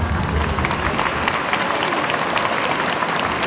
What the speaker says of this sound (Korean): 여러분 큰 박수, 또 따뜻한 환영의 함성 함께 질러주시기 바랍니다.